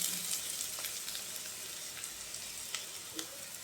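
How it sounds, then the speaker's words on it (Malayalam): Bitter gourd fries in oil in a pan for a homestyle Kerala stir-fry, giving a steady, soft, even sizzle with a few faint stirring clicks, close and unaccompanied by speech. "കൈപ്പക്ക കുറച്ച് ഫ്രൈ ആകാൻ കുറച്ച് ടൈം എടുക്കും"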